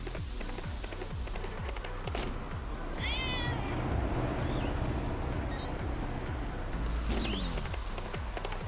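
A cat meows twice in the motorbike video game Trials Fusion, short rising and falling cries standing out over a steady engine-like rumble and rhythmic clatter of gameplay.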